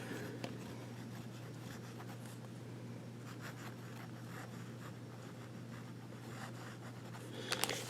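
An Aurora Ipsilon fountain pen with a fine nib writes on paper, giving a faint, quiet scratching of repeated small strokes over a steady low background hum.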